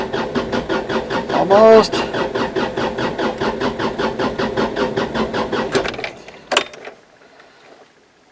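A homestead engine on a far west Texas ranch cranks repeatedly on its starter in a steady rhythmic churn, close and loud, with a voice speaking over it; the cranking cuts off near the end, leaving a brief clunk and quiet.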